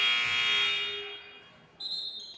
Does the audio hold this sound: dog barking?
no